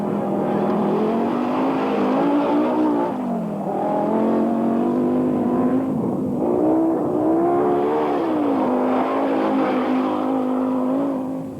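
A rally car on a stage of the 1988 Qatar Rally in the Middle East Rally Championship, its engine revving hard and rising and falling through gear changes, loud and continuous.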